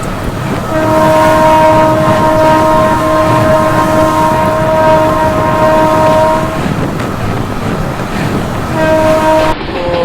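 The 22959 Intercity SF Express runs from Vadodara to Jamnagar with a continuous loud rumble and a sustained horn-like tone. The tone holds for several seconds, breaks off, then returns briefly near the end.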